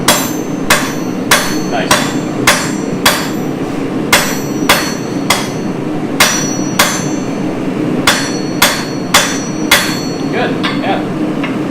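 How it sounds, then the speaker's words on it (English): A hammer rings sharply against hot steel on an anvil while a point is forged, with a steady series of loud, evenly spaced metallic strikes over a constant forge roar and a few brief spoken words. "Come a little closer to the anvil so you're not hitting the hammer."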